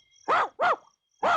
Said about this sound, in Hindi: जोर से भौंको।